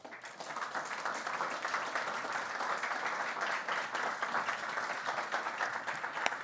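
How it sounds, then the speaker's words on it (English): An audience at a women's football event applauds a former football player taking the stage, a sustained, even roar of many hands clapping in a large room. "A warm round of applause for a legend of the game"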